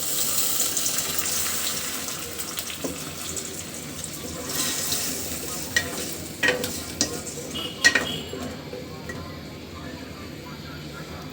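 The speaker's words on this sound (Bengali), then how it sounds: "মশলা যেন পুড়ে না যায় সেজন্য একটু পানি দিয়ে দিচ্ছি।" Water is poured into spices frying in a pan, and a steady hissing sizzle fills the clip with occasional clinks and stirring knocks, fairly close.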